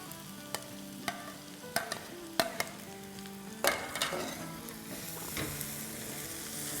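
Green onions, bell pepper and a lengthwise-cut green chili sizzle in a hot pan for Schezwan potato fries, with sharp clacks of stirring spaced through a steady frying hiss that swells after a few seconds.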